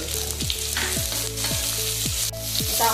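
Finely chopped onion for a mixed vegetable stir fry frying in a pan gives a steady close sizzle, with rhythmic sliding tones and scrapes recurring about twice a second.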